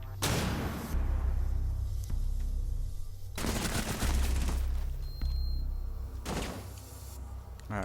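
Gunfire in a Rainbow Six Siege esports match: several loud bursts of rapid shots, each sharp onset followed by a decaying rattle and echo, separated by brief quieter gaps.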